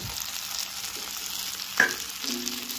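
Green chillies frying with spices in a pan give a steady, moderate sizzle with a light scrape of stirring partway through, no voices.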